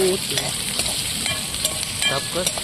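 Onion and tomato sizzling in a pan at a campsite, a loud close hiss with scraping and stirring sounds from a utensil moving through the pan.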